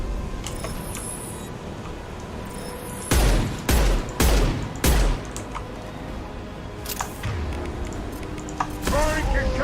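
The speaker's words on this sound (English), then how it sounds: "Firing concussive shot." Concussive shot fired in the Mass Effect video game: a quick series of four or five loud heavy blasts in the middle, set against background game sounds and a speaking voice.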